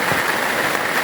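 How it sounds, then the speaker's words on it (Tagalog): Light rain patters on a house roof on a farm, a close, even rushing noise with no breaks and no voices. "Paunti-unti na ulan. Yun. Kaya maingay yung atip."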